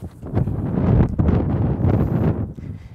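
Wind gusting across an outdoor disc golf course at Fox River Park in Silver Lake, Wisconsin, a loud steady roar buffeting the microphone, with no one talking.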